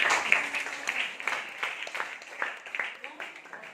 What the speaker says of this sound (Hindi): उनके लिए सभी तालियां बजाएं।